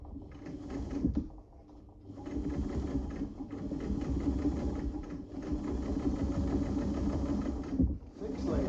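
A Class 15 clone sewing machine, modified for heavy-duty marine canvas, stitches a hem through three layers in a steady, fairly loud mechanical run with a couple of brief pauses.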